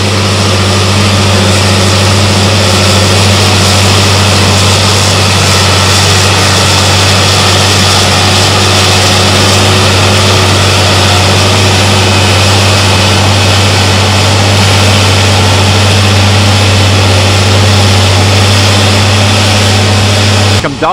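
Timber Pro TF830 forwarder climbing a hill, its heavy engine droning loud and steady under load throughout, with someone talking over it.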